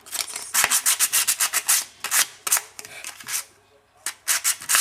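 Rapid back-and-forth strokes of 3M sandpaper rubbing on sheet metal being shaped into a jewelry finding, close and fairly loud, in bursts of quick scratchy passes with short pauses.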